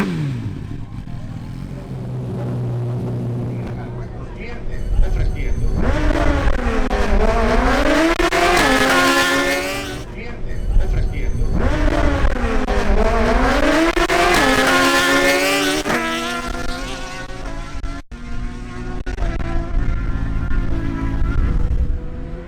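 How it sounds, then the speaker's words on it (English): Suzuki Hayabusa and GSX-R1000 sport motorcycles race side by side, their engines rising in two loud, sweeping high-revving pulls with gear changes, a brief drop between runs and steady roar throughout. "the Suzuki GSX-R1000 or Hayabusa of Javier Carrillo faces off against the Suzuki GSX-R1000 of Julian Camacho once again"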